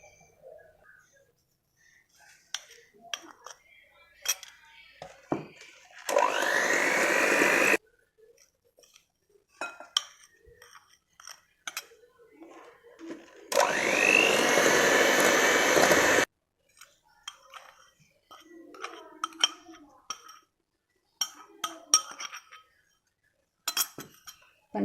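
An electric mixer beats cream with sugar for a Spanish delight cake, two loud whirring runs of a few seconds each, between them clinks of bowl and utensils nearby.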